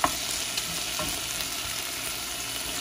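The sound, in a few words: sautéing garlic, onion and tomato in a pan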